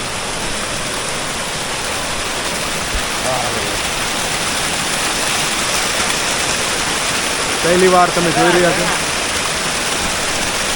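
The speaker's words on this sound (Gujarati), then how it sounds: "એ ગાંધી ગીરની વચ્ચેથી આ નદી નીકળે છે" The source stream of the Madhuvanti river in the Gir forest rushes over rocks in a steady, full wash of water noise. A person speaks briefly over it.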